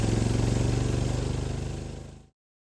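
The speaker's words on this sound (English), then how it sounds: "The engine will idle up to 2500 RPM, and the FlexDrive AMS will engage the low-speed clutch on the rear belt line." A VMAC G90 compressor with FlexDrive AMS, belt-driven off a vehicle engine idling up at 2500 RPM, hums and rattles in a steady, close, rhythmic drone that tapers slightly before cutting off abruptly.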